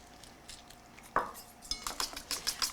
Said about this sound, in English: Whisking that all together.